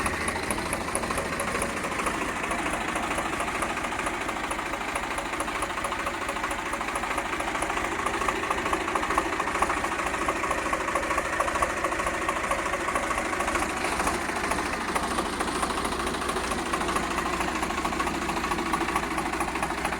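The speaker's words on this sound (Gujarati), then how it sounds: "सेल्फ स्टार्ट ट्रेक्टर है" A Swaraj 834 tractor, a one-owner self-start model in original condition, runs steadily close by, its diesel engine giving a continuous loud knocking chug throughout with no talk.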